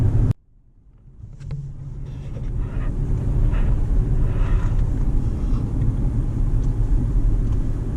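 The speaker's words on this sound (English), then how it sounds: "we're going about 30 miles per hour, you could still hear a little bit of the grunt from the engine" Low, steady engine rumble and road noise inside a Jaguar XJL luxury sedan cruising at about 30 mph, a brief dip at the start, then a continuous muffled drone with no talking.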